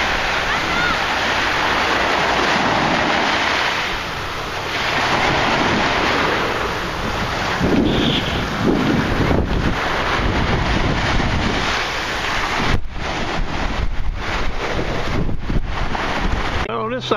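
Ocean waves surge and wash into a sea cave as the tide comes in, a loud continuous roar with gusty wind buffeting the microphone and occasional breaks in the rush of water.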